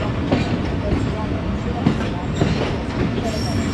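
Khyber Mail train at platform 4 of Chichawatni railway station in Pakistan, a dense, steady rumble of rail noise with scattered metallic clanks and knocks, fairly close and loud throughout.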